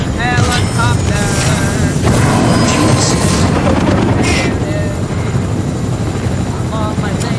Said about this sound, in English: We're coming in a helicopter.